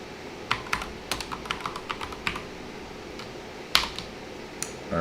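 Computer keyboard typed on during a programming session: irregular bursts of crisp key clicks, some louder single strikes, close and alone without talk.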